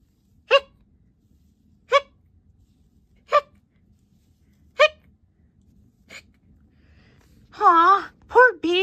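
A cartoon character hiccups repeatedly, five short, sharp hics spaced a second or more apart against near silence, then a few whiny vocal sounds close to the end.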